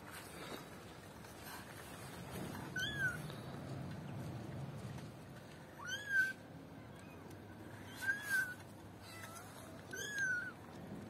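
Kitten meowing call played back to a group of cats, with several high meows rising out of a quiet outdoor background, some sharp and near, spaced a few seconds apart.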